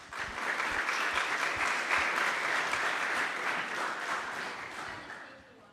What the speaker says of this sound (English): So, a round of applause for Ksenia.